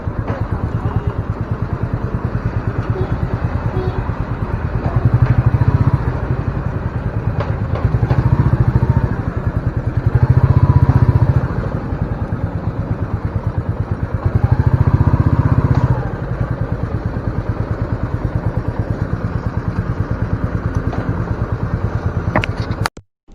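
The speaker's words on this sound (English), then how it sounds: "The firing again, the exhaust note is on the softer side." Royal Enfield Meteor 350 motorcycle engine and exhaust, a soft, steady thump running continuously up close, with the low rumble swelling in several brief surges as the throttle is blipped before cutting off abruptly at the end.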